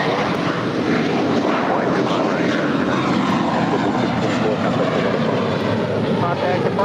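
An airliner takes off from runway 25 right at LAX, a steady, loud jet engine roar with wind noise, heard under radio talk throughout.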